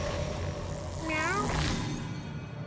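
A single cat's meow rises and falls once in South Park: The Fractured But Whole, brief and fairly faint over a low steady background.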